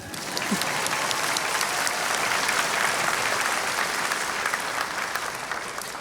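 A commencement audience at the Mandel School's 2022 graduation breaks into sustained applause after the student awards, a dense, even roar of many hands held for several seconds before slowly easing off.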